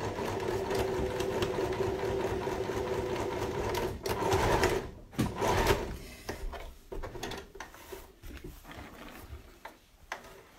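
A sewing machine stitching a fabric face mask runs in a fast, steady mechanical chatter, then stops and starts again in shorter bursts, close and fairly loud.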